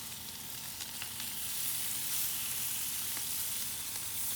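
Steady, close sizzling and crackling of bacon and onions frying on a hot flat-top griddle, with no voices.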